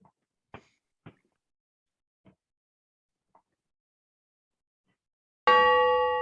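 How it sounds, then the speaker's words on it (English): A virtual meeting bell rings once near the end, loud and bright with a sustained, slowly fading tone, after a few faint isolated clicks in near silence. "The virtual bell still works."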